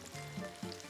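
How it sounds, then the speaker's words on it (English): A yellow squash skillet pie sizzles softly in olive oil in a frying pan, a faint, low crackle with a couple of gentle shifts as it cooks. "She then slides it back into the frying pan to cook for about 5 to 7 minutes on the other side."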